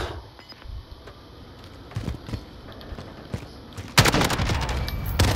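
Gunfire in the video game Modern Warfare sounds as scattered sharp shots over a low background, then a loud dense burst of rapid fire near the end, with no talking.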